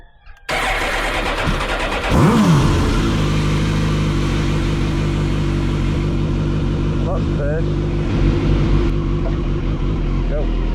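A Suzuki GSX-R1000 K4 motorcycle engine starts and settles into a loud, steady close idle with a brief rev, running continuously for the rest of the clip.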